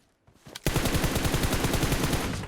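Rapid automatic gunfire in PUBG Mobile starts after a short quiet moment and runs as a fast, loud, evenly spaced burst of shots that keeps going to the end, with no voices.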